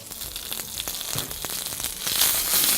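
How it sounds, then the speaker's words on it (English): Padron peppers hit a very hot pan inside a Morso Forno wood-fired oven, giving a loud, steady hiss and crackle with scattered pops that builds slightly toward the end. "And in with a big sizzle."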